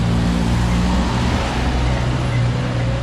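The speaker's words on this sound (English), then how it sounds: "So we're gonna watch this vehicle come by." A vehicle rolling along a street in Macau, a steady loud rumble of engine and road noise mixed with surrounding city traffic, continuous for the whole stretch without a clear peak.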